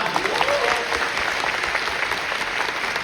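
Theatre audience applauding during a curtain-call thank-you for a stage play, a dense, steady wash of many hands clapping at close range with no gaps.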